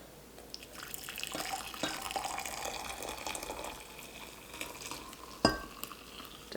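Hot spiced sugar syrup for preserved oranges being poured into jars, making a soft, continuous liquid trickle and splash with faint drips and one sharp clink of glass near the end.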